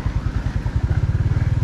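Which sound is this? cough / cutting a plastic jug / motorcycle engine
motorcycle engine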